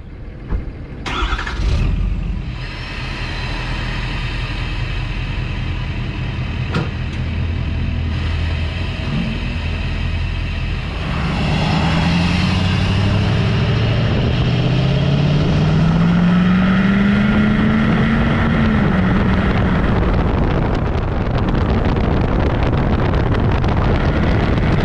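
Tuned Ford F-250 with a 6.7 Powerstroke diesel accelerating hard, a loud close engine roar rising steadily in pitch over many seconds with wind rush, no talking.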